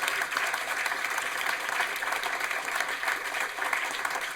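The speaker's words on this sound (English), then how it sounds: "A round of applause," Audience applause for three guests at the close of a Brexit discussion event, steady dense clapping that holds evenly throughout without breaks.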